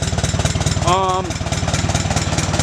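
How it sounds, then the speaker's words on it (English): An Allis Chalmers B tractor engine idles steadily close by, its low, even thumping pulse running throughout, with a brief whistling tone rising over it partway through. "I'm gonna let the tractor run for a little bit, and let's move on to the next thing. She idles pretty good."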